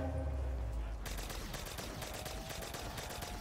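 Rapid automatic gunfire rings out in Black Ops 3 custom Zombies, a dense burst of sharp shots starting after a second and continuing loud and close to the end.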